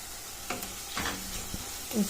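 Spoon stirring turmeric, salt, crushed garlic and onion frying in a pan for a radish greens curry: a few scraping strokes and clinks over a steady low sizzle, close by.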